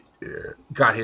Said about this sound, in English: Yeah, I just burped.